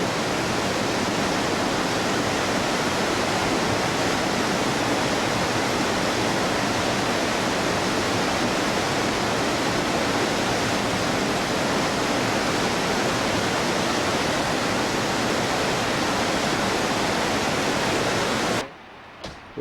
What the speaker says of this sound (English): Get an idea of this, the force of this river.